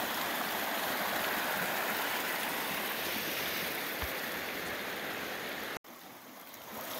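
A small mountain creek flows in a steady, close rushing wash that runs unbroken, cut by a brief click and quieter moment near the end.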